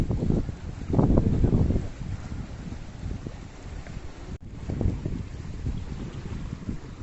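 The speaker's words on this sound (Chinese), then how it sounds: "风浪还是那么大，看看这里跟战场似的" Strong wind buffets the microphone beside a reservoir while choppy waves wash below, with louder gusts rising and falling over a constant roar.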